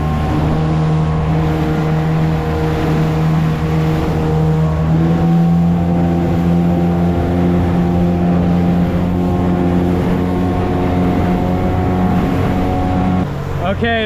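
A motorboat on a large lake porpoising through rough water, its engine droning loud and steady with hull slaps and water rush close by for the whole stretch before the motor eases off at the end.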